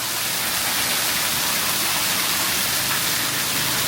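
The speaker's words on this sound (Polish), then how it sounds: "Dosłownie pada od 5 minut, a ja już mam wody równo tutaj z tymi płytkami." Heavy tropical rain pours down in Pattaya, Thailand, in a continuous, loud hiss, steady throughout with no breaks.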